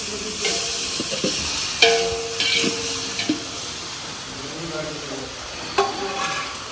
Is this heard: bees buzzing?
no